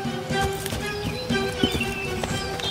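A donkey's hooves walking on the way to market, laden with sacks of salt on its back, a steady run of light clip-clop steps at moderate distance, with faint background noise and no talking.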